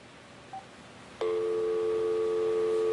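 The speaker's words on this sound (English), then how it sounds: "That's supposed to be the dial tone." After a short faint beep, a steady telephone dial tone from an Obihai 200 VoIP adapter on speakerphone starts and holds at constant loudness.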